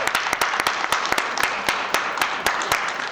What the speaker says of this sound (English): Can we clap it up one more time for my child?